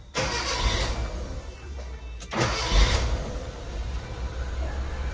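Carbureted car engine cranking and catching: a short starter whir, then the motor fires and revs up into a rough, loud running rumble that settles toward an idle, close by.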